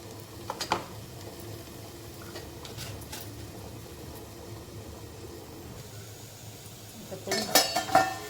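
Onion and tomato frying softly on a tawa for a cluster bean bhaji, with a low steady sizzle, then a few sharp metallic clinks near the end as a lid is set on the pan.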